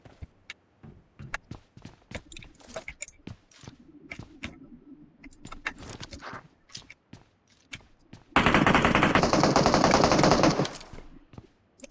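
Automatic gunfire in a Turkish multiplayer shooter game, scattered sharp shots and bursts building to a loud sustained spray of fire lasting a couple of seconds, close and dominant.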